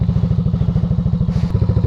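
A 2021 Yamaha NMAX V2 scooter idles with a fast, even chugging pulse, loud and close, with a brief metallic clatter near the end and no talking.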